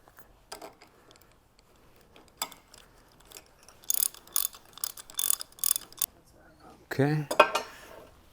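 Portable line boring machine having its power feed fitted, with scattered metallic clicks, clanks and ratcheting taps of parts being assembled, some sharper bursts near the end and brief talk in between.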